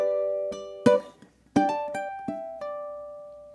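A ukulele plays a slow blues triplet rhythm, with a few bright strummed and plucked notes spaced out and ringing in a quiet room.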